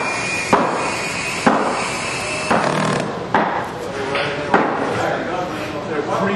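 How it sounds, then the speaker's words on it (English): Structural insulated panels are pulled up and joined together during installation, producing a series of sharp knocks and thuds every second or so, with someone talking throughout. "now we're going to zipper the panel together. So you pull it up, and pull the two together."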